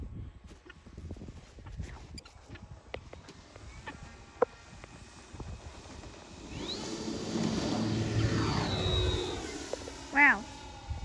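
A Flitework PC-6 Porter aircraft takes off in a flight simulator game, with engine noise rising after a quiet start and holding steady and fairly loud through the second half, plus a brief louder burst near the end.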